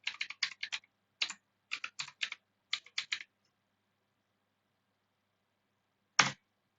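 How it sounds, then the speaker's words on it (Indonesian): Keystrokes on a computer keyboard entering a switch configuration command in Packet Tracer: three quick clustered bursts of clicky taps, then a pause and a single louder final key press, close and alone with no talk. "mengetik show"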